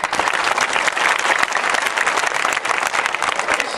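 A crowd at a Save Yamuna meeting claps steadily after a speech, a dense continuous wash of applause with no pause.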